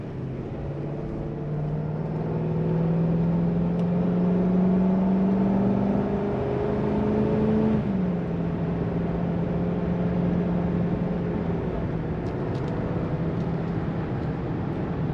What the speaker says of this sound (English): So we're going to accelerate onto the highway here.